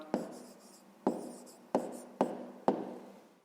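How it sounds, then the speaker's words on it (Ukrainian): Pen writing out a math answer by hand on paper, heard up close as five short scratchy strokes, each a sharp onset that trails off, at an uneven pace with no talking. "Записуємо відповідь. Ну і пишемо так."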